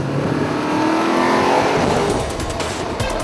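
Audi RS5 engine revving hard under full acceleration, a loud, continuous rising roar that swells through the middle and stays strong to the end, with no talking over it.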